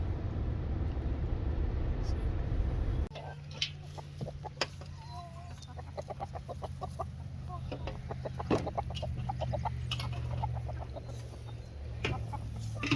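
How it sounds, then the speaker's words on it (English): Chickens on a livestock farm cluck in short repeated bursts over a steady low background hum, the calls close and fairly clear, becoming busier in the later part. "Chickens are having baby mice for supper."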